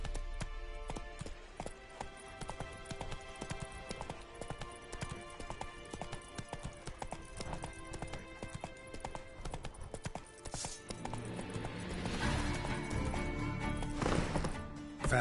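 Roach the horse gallops in The Witcher 3, a steady clip-clop of hooves running throughout, fairly close and loud, with occasional whinnies and game sounds building toward the end.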